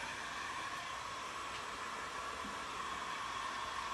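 A hair dryer blows over fresh Miss Mustard Seed milk paint, making a steady, fairly loud airy whoosh that holds unchanged from start to finish with no voices.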